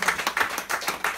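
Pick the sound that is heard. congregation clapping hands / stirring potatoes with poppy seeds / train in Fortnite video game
congregation clapping hands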